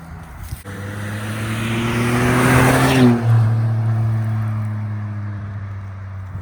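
A loud Ford F-150 pickup with a throaty, rumbling Flowmaster Super 44 performance muffler approaches and passes close by on a highway, engine droning and swelling before fading slightly.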